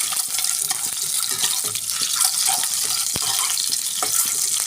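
Cut eggs frying in a pan, a dense continuous sizzling hiss with scattered light pops and one sharp tap, close and steady.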